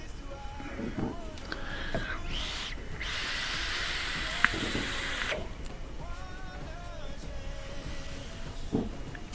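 An e-cigarette fired at 30 watts with a 50-50 liquid gives a steady, soft vapour hiss that swells for a few seconds mid-clip, with faint murmuring speech and small clicks around it.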